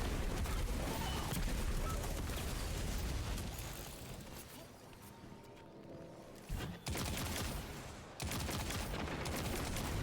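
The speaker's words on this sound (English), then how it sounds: "It's very rude to shoot at me." Enemy gunfire in a video game, a dense, loud barrage of shots and rumbling blasts that thins out midway before abrupt bursts return.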